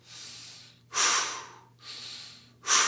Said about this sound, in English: Focus on that exhale